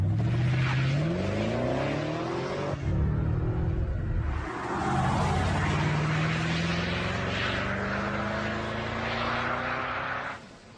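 BMW 6 Series car engine revving repeatedly with rising and falling tones, loud and close, two long pulls broken by a brief pause, no voices.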